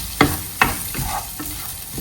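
Chopped boiled egg stirred into a sizzling masala in a pan, with a few sharp spoon scrapes and taps over a low steady fry, close and alone.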